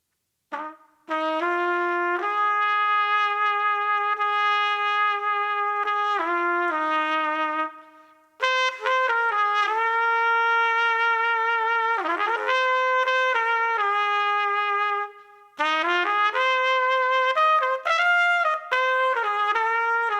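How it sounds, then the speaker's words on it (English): A Yamaha Xeno 8335 Bb trumpet with a Yamaha Custom 11B4 mouthpiece plays Give Me That Old Time Religion as a clear, bright solo melody of held notes in several phrases separated by short breaths, close and unaccompanied. "starting off then with the Yamaha Custom 11B4 and a Xeno, and we'll play Give Me That Old Time Religion"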